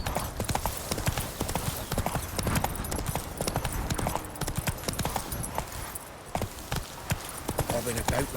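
Geralt's horse Roach trotting in The Witcher 3, a steady clip-clop of hooves on a road, close and continuous with a brief pause, under occasional talk and game ambience.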